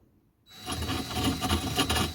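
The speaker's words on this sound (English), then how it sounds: "if you put the drill straight down, it tends to skitter around a bit" A drill bit skitters and scrapes across the surface of a handmade bonsai pot as drilling begins, a quiet gritty rasping that starts after a short silence and continues in uneven grinding pulses.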